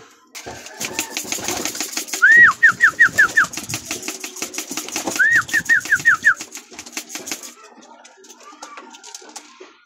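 Young pigeons flapping down to a loft in the morning: rapid bursts of wingbeats come and go over a noisy outdoor background, with whistling wing tones and some scattered clatter.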